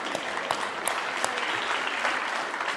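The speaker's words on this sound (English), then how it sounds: "Raise your hands for a round of applause." An audience at an annual community meeting applauds steadily, a dense, even patter of clapping hands from a fairly large crowd indoors.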